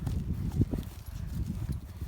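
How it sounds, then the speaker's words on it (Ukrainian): Hooves of a mare being chased thud and clop unevenly on soft ground, steady and fairly close, with a low rumbling background. "Хлопці проганіють кобилу."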